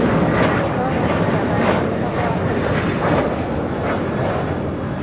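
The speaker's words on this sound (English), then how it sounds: "here we have Delta Airlines Flight 1296 taking off to Salt Lake City on the 767-300ER" A Delta Airlines Boeing 767-300ER takes off at LAX, its engines a loud, steady broadband roar that holds without a break, heard from the spotting area.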